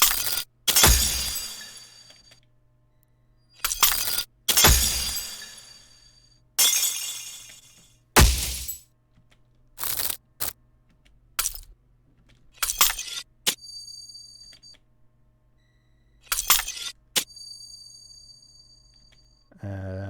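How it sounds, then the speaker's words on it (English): Glass layer of a Legends of Runeterra loot box opening sound effect: loud, sharp glass-shattering bursts repeat in an irregular series with short silent gaps, some followed by bright, sustained ringing tones. "Then this loot box opening starts to play around here. So one of the first layers that come in is this glass."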